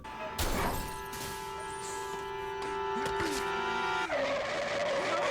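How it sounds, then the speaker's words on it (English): A car striking a person in the anime Death Note: a sudden sharp impact with shattering crash, then a lingering tonal hum, a sliding skid-like sweep and a bright metallic ring. "And he gets hit by a car."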